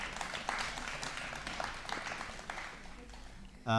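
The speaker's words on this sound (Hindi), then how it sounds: "जोरदार तालियां आप लोग बजाएं" Applause from an audience for a music group's performance at a poetry-and-music program, a steady dense patter of many hands at moderate distance, fading slightly before a sharp burst of noise at the end.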